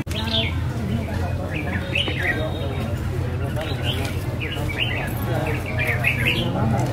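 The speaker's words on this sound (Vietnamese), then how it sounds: "Đây là khu vực họ bán chim cảnh này." Caged songbirds for sale at a rural highland market in northwest Vietnam, including red-whiskered bulbuls and hwameis, chirp and tweet in scattered bursts over a steady crowd murmur, with voices talking throughout.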